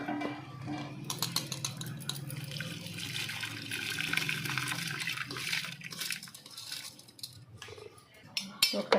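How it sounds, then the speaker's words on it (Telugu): Soaked, washed rice drained and tipped into a pot of boiling water, a sustained rushing pour with splashing and bubbling, fairly steady throughout with a few sharper knocks near the end. "ఇప్పుడే మనము కడిగి నానబెట్టుకున్న బియ్యాన్ని వంపేసి ఇందులో వేసుకోవాలి."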